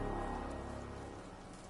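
Steady rain pattering on surfaces in the video game Ender Lilies, a continuous wash of drops at moderate volume, slowly easing slightly.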